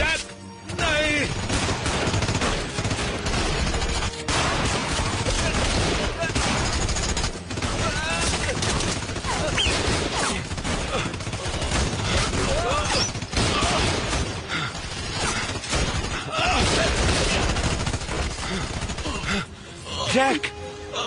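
Gunfire crackles through a Hindi-dubbed war film, with dense bursts of shots and impacts mixed into loud battle noise and music, while voices shout over the fighting.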